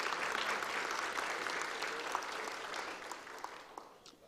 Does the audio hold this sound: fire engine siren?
no